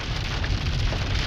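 Heavy rain falls in Ranyah, a dense, steady roar of drops hitting surfaces, loud and close, continuous with no talk.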